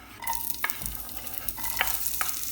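Onion and ginger sautéing in oil for Filipino chicken arroz caldo, a close steady sizzle broken by sharp clinks and scrapes of a utensil stirring the pan, no talking.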